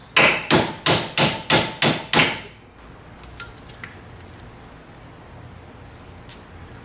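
Seven quick, evenly spaced metallic hammer blows bending the tabs over on a Toyota 4Runner steering rack boot, loud and close, then stopping, leaving quiet workshop background with a few faint knocks.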